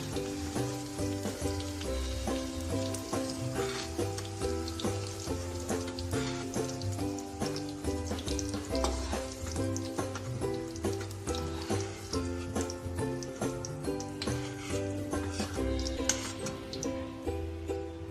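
Tomatoes and chillies fry in hot oil, giving a steady, close crackling sizzle with scattered pops and faint clinks, alone with no voices.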